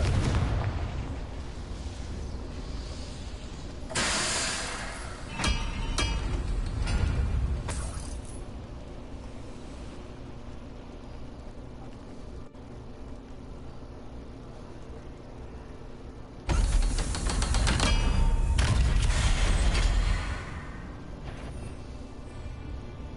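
Confringo fire spells burst in a Hogwarts Legacy battle as heavy booming blasts, with two long, loud rumbling explosions and scattered crackling impacts between them.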